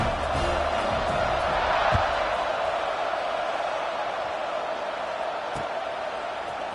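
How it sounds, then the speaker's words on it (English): A football stadium crowd roars and cheers before kickoff in a game against Louisville, a loud, dense, continuous wash of voices that holds steady throughout, with a brief thump near the two-second mark. "They're set to kick it off, and this crowd now ready to get behind them."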